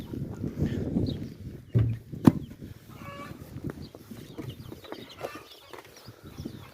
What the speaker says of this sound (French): Alors voilà les poussins.